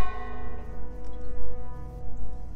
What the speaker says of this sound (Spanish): mira, una campana